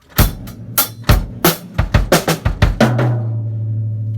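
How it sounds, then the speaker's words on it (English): A drum kit plays a pickup into a full-measure fill in a 3-over-4 feel: a run of sharp, loud hits in uneven clusters, ending on a sustained ringing tone that fades out. "and then you do a whole measure fill"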